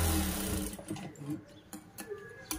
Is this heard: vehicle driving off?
no